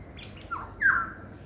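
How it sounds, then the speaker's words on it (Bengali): A yellow bird with a black head calls twice, a short chirp followed by a longer, louder tweet, over a steady low background hum. "এখানে অনেকক্ষণ থেকে বসে কি সুন্দর ডাকছিল হলুদ রঙের মাথাটা কালো"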